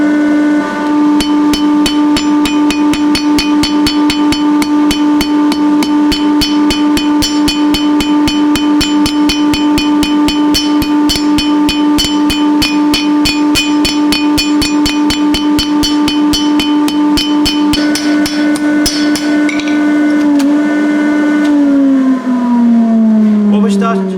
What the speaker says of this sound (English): this time I'm going to carry on forging